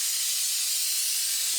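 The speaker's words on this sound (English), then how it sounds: "spray this down with some brake cleaner in case there's any residual oil or anything like that on it" Brake cleaner sprays in one steady, close hiss onto a 2006 Buick Lucerne brake hub, lasting the full moment without pause and with no voices.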